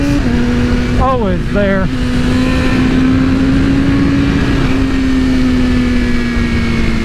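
BMW M1000RR sport motorcycle with aftermarket tuning, engine droning loud and steady as it pulls under acceleration, rising slightly in pitch with heavy wind roar; someone speaks briefly over it early on.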